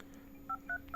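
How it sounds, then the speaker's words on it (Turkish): A Xiaomi Mi 11T Pro smartphone plays keypad tones after an audio IC repair: three short, clean touch-tone beeps in quick succession, close and clear over faint background hum. "Şu an tuş sesi çıkıyor."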